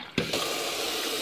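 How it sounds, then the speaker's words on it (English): Hot water running from a tap, starting with a sudden gush and then flowing steadily, close and moderately loud. "Turn the hot water on."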